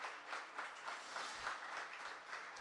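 Crowd applauding at a para shooting world championship in Lima during a 10m air rifle prone final, a steady, faint wash of distant clapping with no talk.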